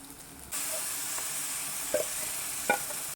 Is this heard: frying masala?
yes